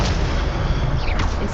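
A disarming spell cast in the video game Hogwarts Legacy, a loud, dense burst with a sweeping whoosh toward the end, filling the whole moment without pauses.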